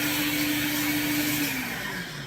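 Countertop blender pureeing cooked pie pumpkin with the lid on, a steady loud whirring motor drone that holds constant and then dips slightly in pitch toward the end.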